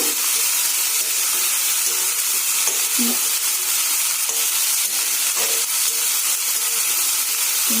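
Fiddlehead ferns fry in an iron wok, with a steady close sizzle and hiss and a few soft stirring clicks scattered throughout.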